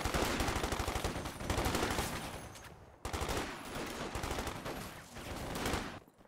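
Thompson submachine guns and Garand rifles fire in a video game, rapid, dense bursts of shots in two long volleys split by a short pause, loud and close, ending in quiet.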